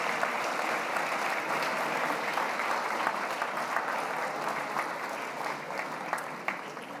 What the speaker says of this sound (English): I hope you all enjoyed that by the applause that we heard